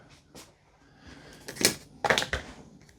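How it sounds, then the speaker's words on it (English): Shipping tape being peeled off the edges of a TCL 65-inch Roku TV, a few short ripping strips, the last two louder and close, with quiet pauses between. "Take off all this tape on the edge before we do this big piece."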